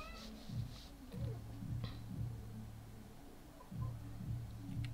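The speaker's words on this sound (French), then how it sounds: "mon chat, c'est Kiki qui miaule, elle est en chaleur" A young female cat in her first heat meows repeatedly indoors, a series of drawn-out, wavering cries in irregular bursts, fairly close but moderate in level.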